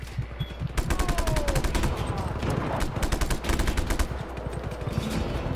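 A cannon fires in the video game Just Cause 3 as a rapid, loud burst of repeated shots that keeps going for several seconds, with some voice faintly underneath.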